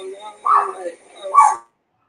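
A dog gives two short, close barks or yips a moment apart, loud and distinct in an otherwise quiet background.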